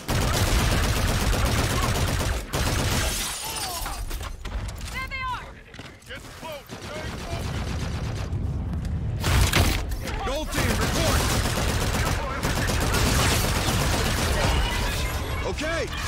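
Gunfire in the video game Call of Duty: Infinite Warfare, dense sustained shooting and explosive bursts filling the scene, loud and continuous, with radio chatter and voices over it.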